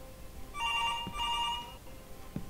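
A telephone rings in the video game Where The Bees Make Honey: a bright electronic trill of about a second and a half, fairly loud and alone, followed by a soft thump.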